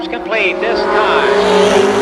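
Race cars at Columbus Motor Speedway roar past with a loud, rising engine whine that sustains close by, while an announcer's voice calls the action over the top.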